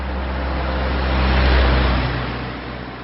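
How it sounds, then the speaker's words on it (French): A car drives past on a country road in the Verdon, its engine and tire noise swelling to a loud peak midway and then fading out, with no voices. "la première voiture qui passe n'hésitera pas à s'arrêter."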